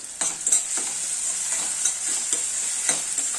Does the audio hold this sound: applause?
no